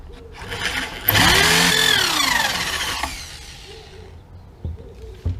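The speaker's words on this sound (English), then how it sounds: "I've got the pocket hole jig clamped in here, right on the edge. I'm going to use both holes." Power drill boring pocket holes through a pocket hole jig clamped to the edge of a wooden serving tray board: a loud whine of about two seconds that sweeps in pitch and then winds down, with clunks and rattles after.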